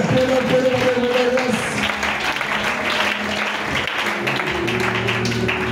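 A church congregation applauds and acclaims the Lord during a sermon, a full, sustained round of clapping that fills the room, with sung or held tones underneath.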